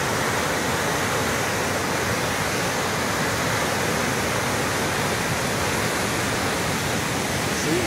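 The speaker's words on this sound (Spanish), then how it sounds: "Empieza la caída de agua." A waterfall on a river with a strong current gives off a steady, dense roar of rushing water that stays constant and fairly loud throughout, with no voices.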